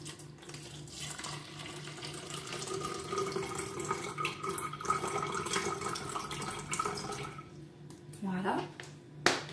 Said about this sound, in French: Il faut mettre 150 ml d'eau.